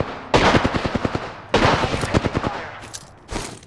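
Apex Legends gunfire comes in two loud, rapid automatic bursts of roughly a dozen shots each, followed by a few short single shots. No one speaks.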